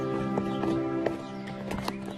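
A horse whinnies with a drawn-out tonal neigh over the close clip-clop of hooves, a few sharp hoof strikes standing out against steady background sound.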